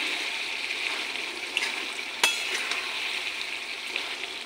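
A spoon stirs hilsa fish head curry with winter vegetables in a pan, giving a steady close sizzle with soft wet scraping and one sharp clink of metal against the vessel.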